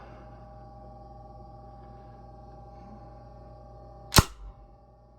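M4 carbine style airgun fired once with impact rounds off an air tank near 2,800 PSI: a single sharp, loud crack near the end, with a faint ringing after it, over a quiet steady hum.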